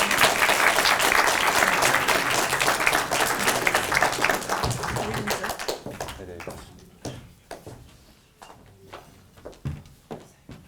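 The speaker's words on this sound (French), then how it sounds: "On peut les applaudir à nouveau." Audience at a speaking competition semi-final applauding the jury on stage, loud sustained clapping that thins into scattered claps and fades over the last seconds.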